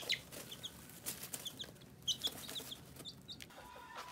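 Three-week-old chicks cluck and peep in an indoor pen shared with rabbits, with repeated short high chirps scattered throughout, some flapping and rustling, and no talking.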